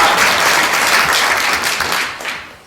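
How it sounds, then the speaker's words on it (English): A lecture audience breaks into full applause, a thick roar of clapping that holds strong and then tapers off toward the end, with no voices over it. "Yes, applause is appropriate."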